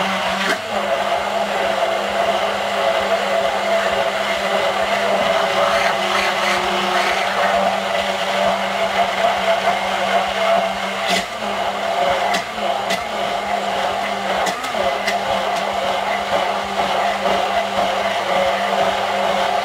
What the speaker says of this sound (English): So next you're going to take your immersion blender And you're gonna get all the way to the bottom.